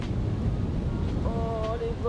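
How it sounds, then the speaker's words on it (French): Strong headwind buffeting the microphone on the Pinsolle golf course, a steady low rumbling roar with faint whistling tones creeping in toward the end. "Il y a un gros vent contre."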